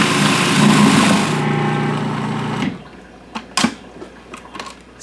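An electric mixer whirs steadily while beating cream cheese and sugar for a gingerbread cheesecake, loud for about two and a half seconds before stopping, followed by a few faint clinks and scrapes.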